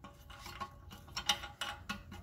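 Nut being tightened by hand onto a replacement toilet flush handle, giving soft close scraping and rubbing with small metallic clicks, quiet and near, with no talk.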